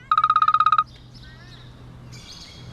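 A phone rings for an incoming call, a rapid series of bright electronic trills repeated about a dozen times, followed by quieter warbling tones.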